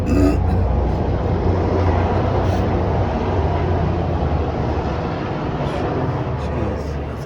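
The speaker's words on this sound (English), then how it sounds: "Low flying helicopter" A loud, steady low rumble of a helicopter passing close overhead, a constant dense roar filling the whole clip without a break.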